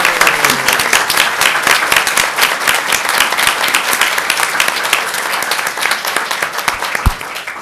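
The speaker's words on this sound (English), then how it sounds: "So a round of applause." A conference audience at a 2006 animal law symposium gives loud, close, continuous applause, dense clapping from many hands that holds steady to the end.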